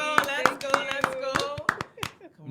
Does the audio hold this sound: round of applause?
yes